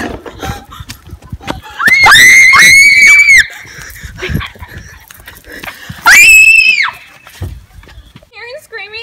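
A person screaming in a Halloween skit lets out two long, shrill, wavering screams, loud and close, with excited voices and scuffling around them.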